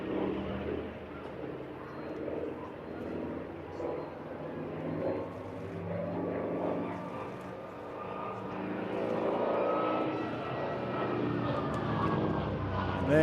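A propeller aircraft engine at an airshow drones steadily and powerfully, its deep hum swelling a little louder toward the end.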